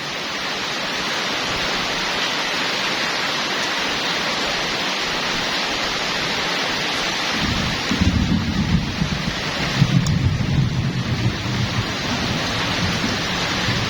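Steady rain falls on trees and green plants beside a house, a constant close hiss with a few low gusty rumbles near the end and no voices.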